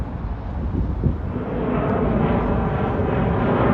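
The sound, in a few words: American Airlines Airbus 319 airplane flying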